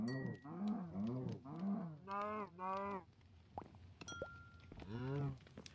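Cows in the Minecraft SkyFactory 5 modpack moo in a series of repeated, evenly spaced game moos, fairly loud and close, with brief sharp game effects between them.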